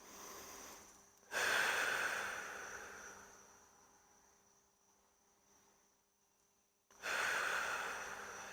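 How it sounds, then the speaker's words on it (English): Deep breathing during a neck stretch in an easy morning warm-up, with a long audible inhale and a slowly fading exhale, then a second breath beginning, close and without talk. "we're going to just start with some nice deep breaths"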